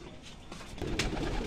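Pigeons in a loft give a low, rolling coo, soft at first and then swelling slightly louder, close by with no voices.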